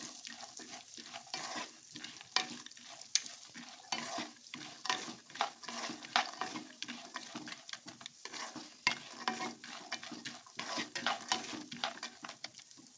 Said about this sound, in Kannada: ನೀಟಾಗಿ ಫ್ರೈ ಆಗಬೇಕು ಸ್ವಲ್ಪ ಹೊತ್ತು.